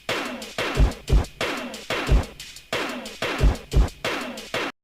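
An 808-style drum pattern built from pencil recordings with reverb, mixed with a panned ride cymbal and hi-hat: booming low kicks land in a steady repeating groove under short ticking hits, loud and alone.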